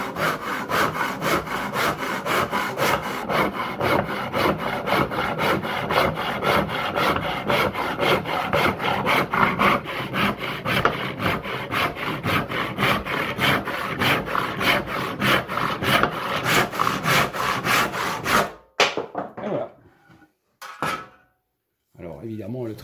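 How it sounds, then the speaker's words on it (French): Hand saw with freshly sharpened teeth cutting through wood, a steady rhythmic back-and-forth rasp of close, loud strokes lasting most of the time, then stopping, with a few brief knocks and scrapes after. "Alors évidemment le trait de scie est un petit peu moins propre"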